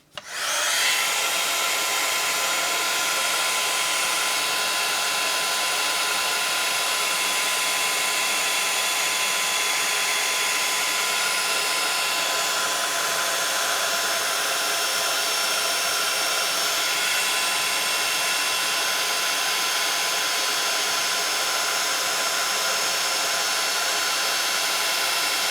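A heat tool blows continuously while heating a mixed media card, switching on abruptly and holding a loud, steady airy whir close by for the whole stretch.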